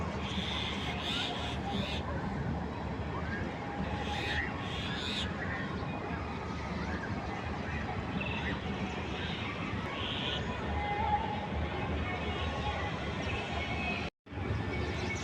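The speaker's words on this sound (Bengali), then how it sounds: "এগুলো কিন্তু সব চড়ুই পাখি" A dense, continuous chorus of many sparrows chirping together on a house rooftop, busy and loud, filling the air without pause.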